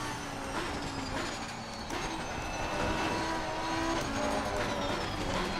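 A Ferrari race car in the racing game Assetto Corsa Competizione drones steadily at high revs, its engine note rising and falling with gear changes, loud and continuous with no talking.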